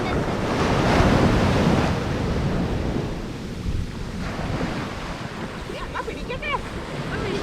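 Ocean surf at Mararikulam beach rolls in loud and close, a continuous roar of breaking waves with heavy wind buffeting the microphone throughout.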